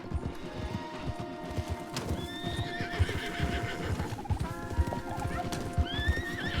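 Horses in the video game Red Dead Redemption 2 being ridden, steady clip-clop of hooves with snorts and a whinny, close and clear over faint game ambience.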